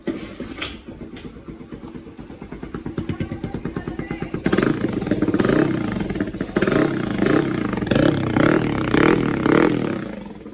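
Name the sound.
motorcycle engine with newly fitted silencer exhaust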